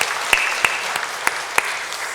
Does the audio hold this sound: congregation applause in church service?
yes